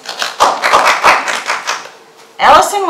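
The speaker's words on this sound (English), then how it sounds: "Round of applause." A small group claps briskly for a second-place tournament finish, giving a short burst of close, crisp claps that fades out before a voice begins speaking.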